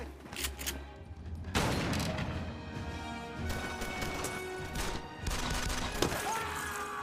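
Film shootout gunfire from a shotgun and a 9mm pistol, a loud rapid volley of cracking shots with crashing impacts, pausing briefly before another burst near the end.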